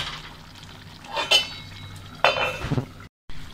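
A metal lid clinks onto a pan of simmering spicy South Indian crab curry, with a couple of sharp clatters and scraping amid soft cooking noise, followed by a brief cut.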